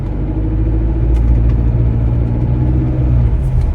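A 2023 Chevy Colorado Trail Boss pickup engine idles smoothly just after being shifted back into drive, giving a steady, close, low rumble with no revving.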